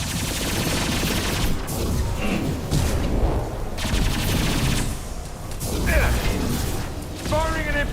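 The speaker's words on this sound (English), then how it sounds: "Firing an impact shot." Impact shot gunfire in Mass Effect 2 amid a dense, loud battle mix of mechanical clatter and repeated weapon blasts, with brief voices over continuous combat noise.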